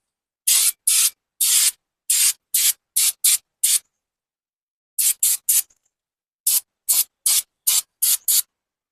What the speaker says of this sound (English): Last time with brake cleaner.